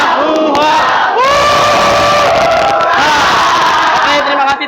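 A group loudly chants the rhythmic 'tepuk rimba' jungle clap chant, with shouted syllables and a strong group voice filling the room, close and energetic throughout.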